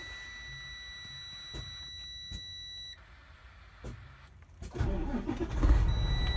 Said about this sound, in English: I'm going to start the cab.